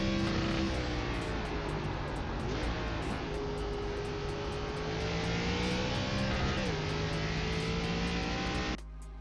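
ARCA stock car engine in iRacing at Martinsville, a loud steady drone with rising pitch that drops sharply twice as the driver downshifts, running alone without talk until it cuts off near the end.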